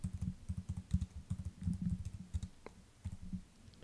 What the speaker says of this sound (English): This will also bring up an input box where you can type in a new task name.